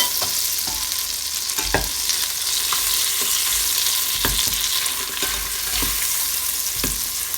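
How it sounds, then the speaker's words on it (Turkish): Butter melting into caramelized sugar, sizzling steadily in a pan while being stirred, with scraping stir strokes every second or so over a constant frying hiss; no talking. "Şimdi üzerine bir yemek kaşığı kadar tereyağı atıyorum. Ve karıştırıyorum."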